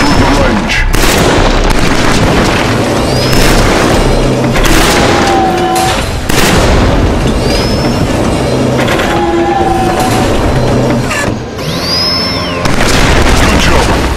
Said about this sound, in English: Let's start with your assault rifle. Destroy the targets in the center of the range.